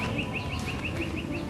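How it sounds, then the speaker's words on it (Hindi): A bulbul sings in a rapid series of short, bright, evenly spaced chirps, clear and fairly close against a steady background hiss. "ये चमकने वाली खूबसूरत बुलबुल कितना सुंदर गा रही है।"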